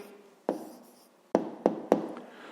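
A pen scratches across paper as an answer is written by hand, a few short separate strokes close and quiet in an otherwise still room.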